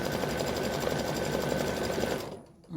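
An embroidery machine stitches out an applique pumpkin with a fast, steady, close mechanical whir, then stops abruptly near the end.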